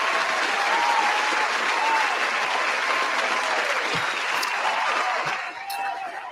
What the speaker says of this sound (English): I got the applause button right here.